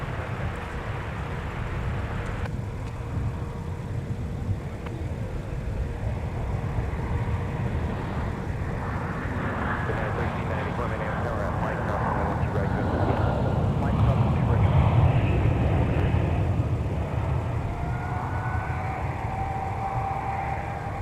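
A Frontier Airbus A321 jet rumbles at Minneapolis–St. Paul airport, a broad, steady engine roar that swells and thins over twenty seconds, with someone talking over it.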